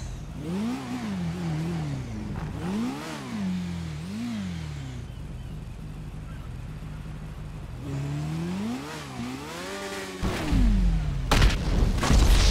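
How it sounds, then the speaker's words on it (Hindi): A motorbike in GTA 5 revs and wails through rising and falling engine pitches, goes quiet, revs again, then bursts into a loud, sudden explosion near the end. "बाइक फट कैसे गई?"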